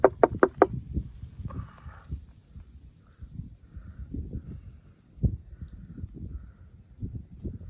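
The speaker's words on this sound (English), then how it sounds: "See if anyone comes out as we knock on this." A quick burst of four hollow knocks on a wooden beehive box in November, followed by faint rustling and soft handling sounds.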